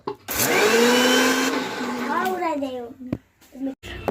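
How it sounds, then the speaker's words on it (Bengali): A mixer grinder whirs loudly as it blends chilli, ginger and garlic into a fine paste. The steady motor roar runs for about two seconds, then winds down with a falling whine, and brief clatters and speech follow near the end. "এবার মিক্সচারে মিহি একটা পেস্ট করে নেব"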